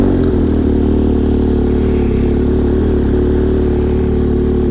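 A Ski-Doo four-stroke snowmobile engine idles at operating temperature, a steady close rumble with an even low throb and no revving throughout.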